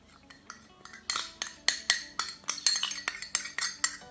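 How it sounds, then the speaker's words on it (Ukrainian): A cheesecake mixture with poured-in melted butter is stirred in a bowl, the utensil clinking and scraping against the sides in quick, regular strokes, close and fairly loud with no talk. "Та гарненько перемішуємо."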